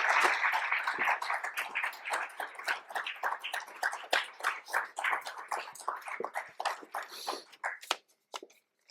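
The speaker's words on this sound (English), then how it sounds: "maybe another round of applause for Meghan as she accepts" An audience at a dialogue-and-friendship event claps in a moderate round of applause, close and continuous at first, then thinning out into scattered claps and fading near the end.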